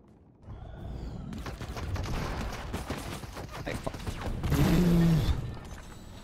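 Suppressed gunfire in the Fortnite video game, a busy stretch of muffled shots among game noise and effects, getting louder toward the end.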